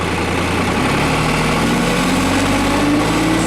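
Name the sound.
New Holland TC35A tractor engine idling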